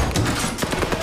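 Call of Duty: Vanguard gunfire on PS5, a brief rattle of rapid shots close by amid other game sounds.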